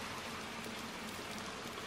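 Rain falls steadily in the game Little Nightmares 2, a soft, even hiss of many drops with a faint patter, constant and quiet throughout with no talk.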